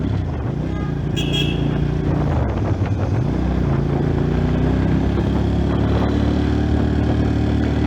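A Musatti Milano S400 motorcycle is ridden on a test ride. The engine drones loud and close with pitch rising and falling as it speeds up and slows, and a brief high tone sounds near the start.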